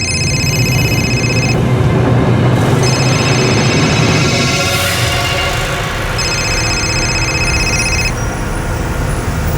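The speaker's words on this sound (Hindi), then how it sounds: "आबिद भाई को फ़ोन लगाइए और उन्हें तुरंत बुलाइए" A telephone rings in three repeated electronic bursts over a steady bed of road traffic and engine rumble.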